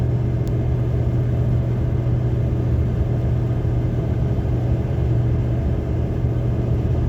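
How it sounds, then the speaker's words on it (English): A steady low exhaust drone from a car cruising at 65 mph in sixth gear with a Cherry Bomb Salute muffler, smooth and unchanging, with a constant rumble and no talking. "here's 65 cruising in 6th gear"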